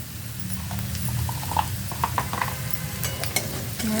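Asafoetida and chili sizzle in hot oil in a pan, a steady close frying hiss with scattered clicks from stirring. No voices.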